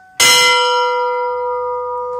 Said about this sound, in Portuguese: nós vamos badalar para nós ouvir o som do sino, né? O pequenininho